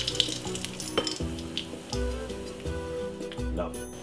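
A fried egg sizzles and crackles in a pan on a stove, a steady frying hiss with small ticks and pops while someone talks over it.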